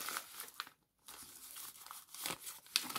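A paper surprise packet is handled, giving soft, close crinkling and rustling in irregular bursts with a short silent gap in the middle and a small sharp tick near the end.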